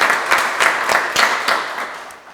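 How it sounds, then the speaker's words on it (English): Audience applause at a Ghana Armed Forces officers' graduation ceremony: a short burst of many hands clapping together, fairly close and steady, fading slightly toward the end with no speech over it. "So once again, I applaud you very heartily."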